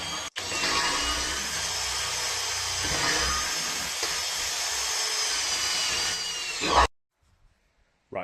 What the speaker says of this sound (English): It was just a nightmare to drill out all the alloy and all the rubber